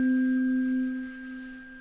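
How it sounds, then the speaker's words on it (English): A C tuning fork at 256 hertz rings with a single pure, steady tone, fairly quiet and close, holding and then slowly fading with nothing else heard over it. "And that is the sound of the C fork."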